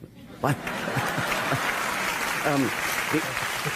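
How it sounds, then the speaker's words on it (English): A studio audience at a talk show applauds steadily, a bed of clapping with a light chuckle mixed in. Voices talk over the applause at several points. "You're not so evolved that you're above applause."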